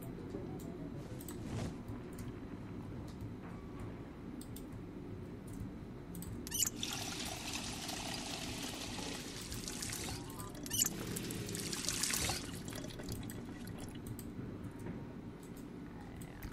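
Water poured into bottles in Project Zomboid, with two steady, hissing pours lasting a few seconds each over a low, constant game ambience.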